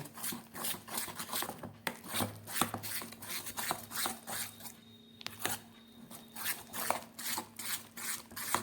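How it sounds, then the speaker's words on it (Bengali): Black gram (urad dal) batter is whisked by hand with a spoon in a bowl, giving steady rhythmic scraping and slapping strokes, close and moderately quiet, with no talking. "এইভাবে ঘুরিয়ে ঘুরিয়ে প্রায় 3-4 মিনিটের মতো এটাকে ফেটে নিতে হবে।"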